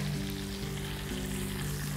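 Breaded milanesa cutlets sizzle in oil in a frying pan, a dense, continuous crackle with a steady low hum underneath, close and unbroken.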